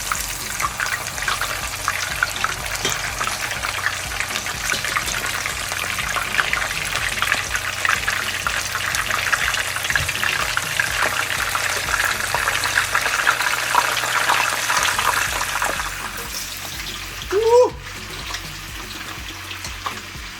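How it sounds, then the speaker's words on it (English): Chicken wings fry in hot oil with a steady, loud sizzle and crackle that holds throughout, close up, followed by a brief clink near the end. "Now we're going to be adding our chicken wings to the oil."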